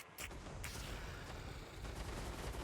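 Ranged lizardmen units unleash a barrage in a Total War battle, a dense continuous rattle of volleyed fire with a couple of sharp cracks at the start, faint and distant in the mix.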